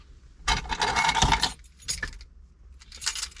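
Loud, close bursts of jangling keys, a long rattle followed by two shorter shakes, with no talk.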